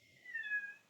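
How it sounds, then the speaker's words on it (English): A male cat gives a single drawn-out meow, fairly faint and close by, rising and then falling over less than a second with no talk over it. "My cat is very mouthy today, so he will be giving commentary in the background."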